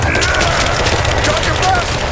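Gunfire in the video game Rise of the Tomb Raider: a continuous, loud barrage of rapid shots and booming bursts filling the whole moment, with shouting voices mixed in.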